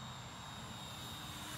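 A Freewing SU-35 RC model jet on its maiden flight, a continuous whining electric ducted-fan roar, steady and fairly distant, with no talk.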